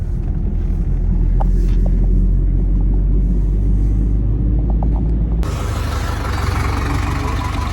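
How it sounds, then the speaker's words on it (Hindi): A diesel Hyundai i20 hatchback is on the move, its engine rumbling low and steady the whole way through. Road and wind noise grow noticeably louder partway in, and nobody speaks. "और अभी तो और चलेगी गाड़ी हमारी।"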